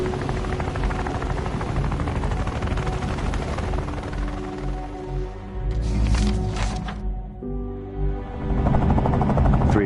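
Military helicopters in a video game produce a dense, chopping rotor roar that stays loud and close, briefly thinning near the middle before swelling again.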